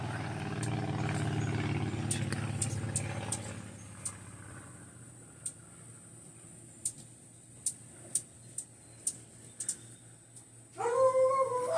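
A dog whimpers and gives a low drawn-out howl, close and moderately loud, then falls quiet while sharp chirps tick at intervals, ending in a brief burst of yelping.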